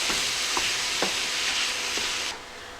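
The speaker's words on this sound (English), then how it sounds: "It's really fast in breaking up your ground meat that you want to brown up." Ground beef browns in a hot pan, a dense hiss with a few spatula strokes breaking it up at a steady pace, close by and then dropping slightly in level near the end.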